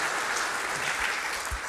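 A church congregation applauds in a brief, dense burst of steady clapping that fills the room, with no talk over it.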